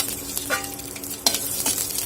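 Green chillies crackle and sizzle in hot oil in a kadhai, close and continuous. Occasional spatters and stirring scrapes break through the frying.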